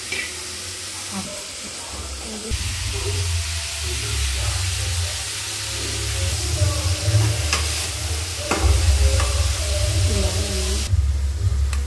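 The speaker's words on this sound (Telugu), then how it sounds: "పల్లీలు వేయించుకుందాం. ఇది మధ్యలోపు పల్లీలు ఫ్రై అవుతాయి." Peanuts roast in a pan on the stove, giving a steady frying hiss with a low rumble underneath and occasional scraping stirs, all close and continuous.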